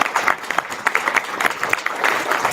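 Brief burst of audience applause at a psychic and energy healing expo in Reno, a scattered cluster of claps from a modest crowd in a hall, steady for a couple of seconds.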